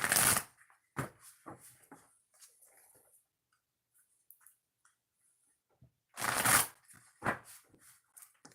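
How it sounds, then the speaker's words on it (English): Oracle cards are shuffled in a few quick riffling bursts, close and soft, separated by quiet pauses with faint handling noises between. "2 shuffles before we start"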